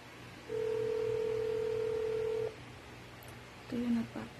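An outgoing phone call to a package scammer rings with one long, steady electronic tone of about two seconds. A short tone follows, then a brief voice.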